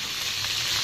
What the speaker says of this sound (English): So what I'm going to do is I'm going to fry this lemongrass.